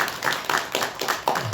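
A church congregation claps in welcome during a Sunday morning service, a quick burst of scattered hand claps heard close and fairly loud with no talking.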